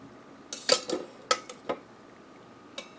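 Cooked golden beets, fresh from a 3-quart Instant Pot pressure cooker, are lifted out onto a cutting board with a few light clinks and clatters of utensils, close by and spaced irregularly.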